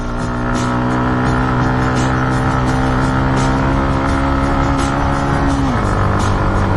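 Yamaha MT motorcycle climbing a steep mountain road at Dim Pahar in Bandarban, a loud steady engine drone held at constant revs, then dropping in pitch near the end, with no talk.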